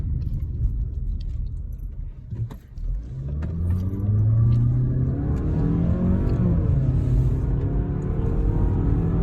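2021 Mazda CX-5 with a 2.5 engine accelerating in sport mode, heard from inside as a low engine rumble that rises in pitch through a gear, with faint rattles and road noise.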